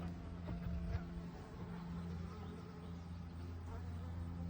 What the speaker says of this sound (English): There's a couple bees around.